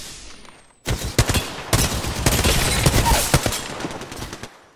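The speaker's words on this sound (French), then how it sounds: "Je me fais tirer dessus!" Dense automatic gunfire in the Apex Legends battle royale game, bursting in after a brief quiet lead-in and rattling on in rapid, loud volleys for several seconds before cutting off.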